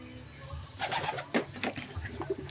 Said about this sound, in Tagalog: ito nga si ano, anak ni Kupal mga kalapatids.